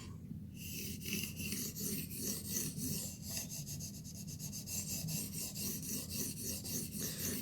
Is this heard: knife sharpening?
yes